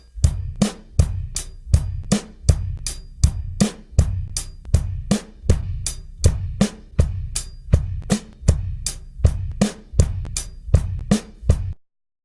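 A drum kit plays a steady eighth-note groove, with sharp hi-hat and snare hits over a bass drum landing only on the offbeats, a close, dry pattern repeating evenly for about twelve seconds before stopping.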